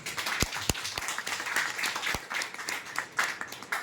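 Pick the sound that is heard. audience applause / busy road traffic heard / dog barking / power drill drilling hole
audience applause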